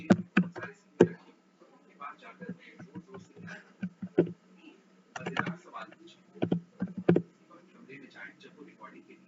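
Someone types on a computer keyboard while writing an office document, producing irregular bursts of close, crisp key clicks with short pauses between them.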